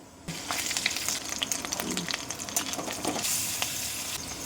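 Whole cumin and ginger crackle and sizzle in hot oil for a potato filling, a sudden bright frying hiss that starts after a brief quiet and continues with spattering pops.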